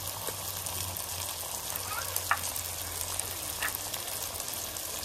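Tomatoes sizzle in a hot pan while cooking chicken curry, a steady low frying hiss with faint crackles and a couple of small clinks, quiet and even throughout.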